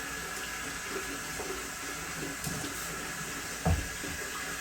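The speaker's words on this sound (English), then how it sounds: "And a quick wash, just to get some of the crap all off it." Running water from a tap as a model part is rinsed under the stream, a steady close splashing flow with a brief louder knock near the end.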